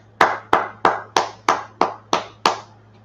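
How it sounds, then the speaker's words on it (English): A group at a brotherhood class claps in unison, eight sharp, evenly spaced claps close by over a low steady hum. "Clap it up."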